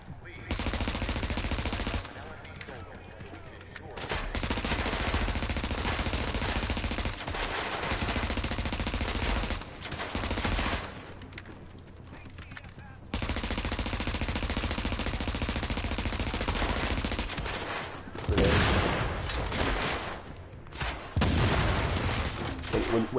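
Heavy, sustained gunfire fills a combat scene in The Division, loud continuous bursts with brief gaps, sniper shots mixed into the barrage, no talking.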